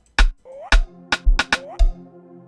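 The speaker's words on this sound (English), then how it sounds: "So this is how the pad X sounds like alone." Pad X synth in Caustic 3 for an amapiano sgidongo track, sustained chord tones with rising pitch glides, layered with several deep kick thumps and bright transients, loud and close, no voices.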